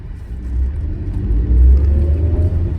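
A used car picks up speed through narrow streets in the Philippines, its engine rumbling low and swelling loud at the midpoint before settling into a steady close drone.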